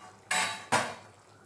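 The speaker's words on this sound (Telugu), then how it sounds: "ఇప్పుడు ఒకసారి మూత తీసుకొని మొత్తం ఒకసారి కలిపెట్టుకొని చూద్దాం" A metal pot lid lifted off a pot of hotel-style sambar, followed by a stir: two sharp, close metallic clanks about half a second apart, each ringing briefly before fading.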